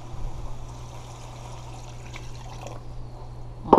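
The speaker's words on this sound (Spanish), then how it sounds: "Echamos el agua ahora." Water is poured into a pot of rice and chicken being cooked for Dominican locrio, giving a steady, soft trickle under a low kitchen hum that ends in a brief louder splash.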